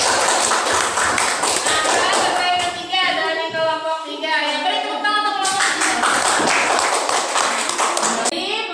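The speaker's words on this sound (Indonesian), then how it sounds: "beri tepuk tangan untuk kelompok 3" Classroom audience applauding a student group, with loud, dense clapping at the start and end and voices and cheering in the middle stretch.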